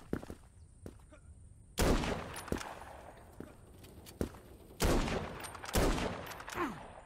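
Pistol gunfire in the first-person shooter Krunker: sharp single shots ring out irregularly over several seconds, with a few louder bursts standing out against quieter background game noise.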